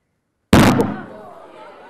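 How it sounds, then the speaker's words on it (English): A balloon of equal parts hydrogen and oxygen explodes: a single loud bang from silence, a sharp explosive burst followed by a short ringing decay. "These ones are going to go more with a bang."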